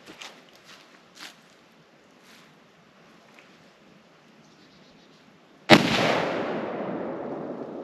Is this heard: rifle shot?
yes